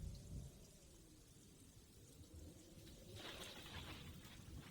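Storm ambience played in a cabin, with continuous rain hiss and low thunder rumble at a faint level. The rain grows slightly brighter and heavier toward the end, and no one speaks.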